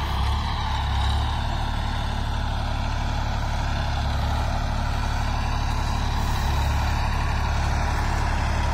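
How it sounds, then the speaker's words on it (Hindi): A new 35 hp New Holland 3032 tractor runs in high gear at about 1200–1300 RPM while pulling a nine-tine tiller in a field. The engine drones steadily and close by, with no voices. "12-1300 RPM पर ट्रैक्टर चल रहा भाइयों, और पहले के हाई गियर में भाइयों ट्रैक्टर चल रहा भाइयों।"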